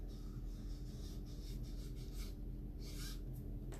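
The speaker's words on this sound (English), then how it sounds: "Perfect, and I'm just gently going to rub over it." Gentle rubbing over a surface coated in paste, soft intermittent scraping strokes, faint and close, over a steady low background hum.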